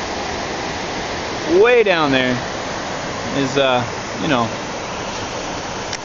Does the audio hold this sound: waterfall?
yes